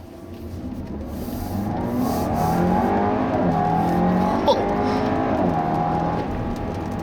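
An Audi A4 B9 accelerates with a steady, building engine drone that rises in pitch across several seconds, heard from inside the car at moderate level with no talking.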